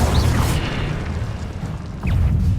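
A fire spell cast in Hogwarts Legacy, heard as two loud booming bursts, one at the start and another near the end, over a dense low rumble of game sound.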